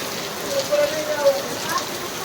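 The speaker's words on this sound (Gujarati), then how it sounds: "વરસાદ અત્યારે વરસાદ બધું બગાડે" Heavy unseasonal rain pours down steadily, a loud dense hiss of drops beating on surfaces close by, with faint tonal sounds briefly rising above it.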